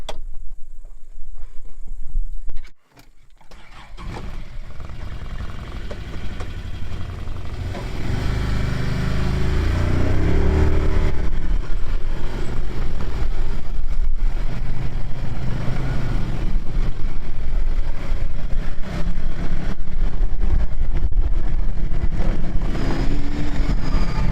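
A buggy's engine idles, cuts briefly, then revs and drones loudly and steadily as the vehicle drives off and keeps running, close and continuous with no talk.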